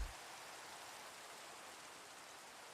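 Steady rain in a video game, a soft, even hiss of falling water with no distinct drops, faint and constant throughout.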